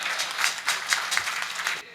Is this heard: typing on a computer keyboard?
no